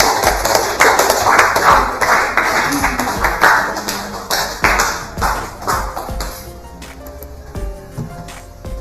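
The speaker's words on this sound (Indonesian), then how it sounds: "Kita berikan aplaus untuk kelompok 5" Classroom applause for a student group after their presentation: a burst of many hands clapping, dense and fairly loud at first, then thinning and fading out over several seconds.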